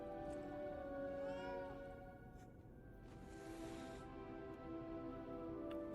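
A soft, short cat meow in the video game Lies of P, faint beneath a dense, steady ambient game soundscape with low rumbling noise.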